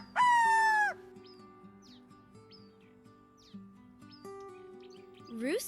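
A single loud, close rooster crow bursts out at the start, then quiet farmyard ambience with faint chirps follows, and a rising call begins at the very end.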